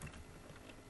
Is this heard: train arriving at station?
no